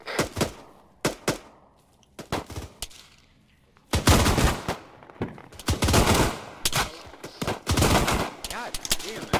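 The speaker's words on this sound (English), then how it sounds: "the AI is fucking ridiculously good at shooting at night with iron sights" Night firefight in the Arma 3 military game: bursts of automatic gunfire and single shots come in clusters, with heavier sustained volleys in the second half, loud and close with echoing tails.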